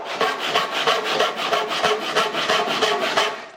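A hand saw cuts through rough sawn lumber in a quick, even rhythm of about three strokes per second, each push and pull a close, raspy scrape.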